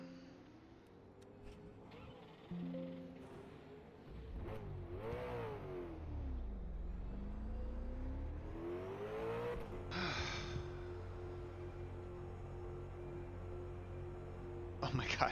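In the rFactor 2 sim, a NARS mini V8 Supercar's engine revs up and down through gear changes at the Townsville circuit, a steady mid-pitched drone with another car coming close.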